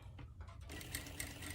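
Sewing machine stitching along a garment neckline, a quiet, quick mechanical whir and rattle that starts up after a brief pause, close but soft.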